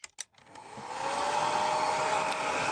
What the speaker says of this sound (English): Alright, hairdryer time.